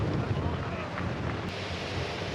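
Strong gusting wind buffets the microphone on a golf course in Bermuda, a steady loud roar filling the whole moment without clear speech.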